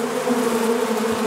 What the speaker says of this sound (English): Gotta love these Florida bees.